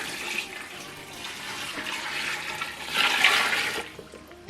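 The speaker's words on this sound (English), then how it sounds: "so I'm going to put water." Water gushes steadily into an 8L folding washing machine for several seconds, a hissing, splashing flow that swells louder near the end, with no voices.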